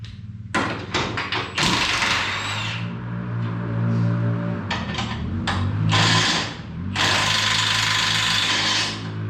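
A power tool, likely a ratchet, removes suspension arm bolts on a Can-Am X3 side-by-side. Loud, close whirring bursts of varying length are separated by short pauses, with occasional knocks and thuds.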